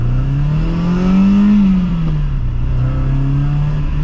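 A BMW E21 engine revving steadily up close, its tone rising to a peak and then easing back while the engine holds a loud, continuous drone throughout, with no talking.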